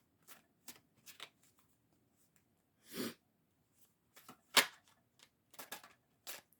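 Large playing cards shuffled and handled in short, separate bursts of riffling and snapping, some sharper and louder than others, with quiet gaps between them and no voices.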